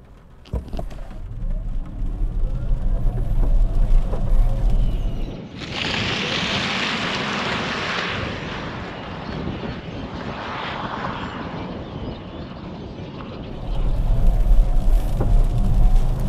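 A 2022 Kia EV6 GT-Line all-wheel-drive electric car accelerates hard in sport mode, heard from inside as a rising whine with a strong rush of road and wind noise that swells, then eases.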